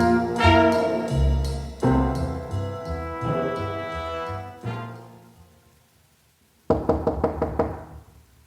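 A door is knocked on in quick bursts of sharp raps that fade, then after a brief pause comes a loud fresh round of rapid knocking, close and alone.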